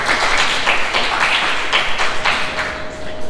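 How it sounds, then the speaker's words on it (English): Applause fills a club meeting room, a loud, close, continuous patter of many hands clapping with no talk over it. "please give another round of applause"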